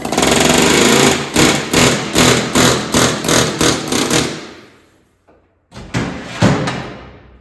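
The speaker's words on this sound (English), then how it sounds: "the regular old air hammer with just a point on it" A pneumatic air hammer with a point bit rattles on the end of a John Deere 300 backhoe steering shaft in loud repeated bursts, pausing briefly, then firing a few more short, sharp blasts up close.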